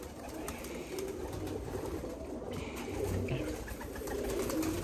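Flying pigeons kept by a pigeon fancier coo and call in a steady, busy chorus close by, with a constant low murmur of birds throughout and no talk.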